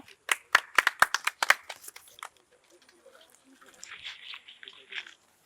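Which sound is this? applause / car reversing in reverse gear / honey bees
applause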